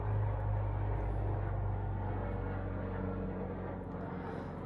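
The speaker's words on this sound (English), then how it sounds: "I have a helicopter going past outside." Helicopter flying past outside a home in Bournemouth, a steady low rumbling drone heard at a distance, fairly faint and fading slightly toward the end, with no talking.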